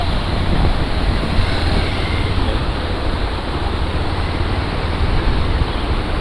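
Water gushes hard from a hose pipe, set up for washing a bike outdoors. It makes a loud, steady rushing hiss that runs on without a break and with no talking.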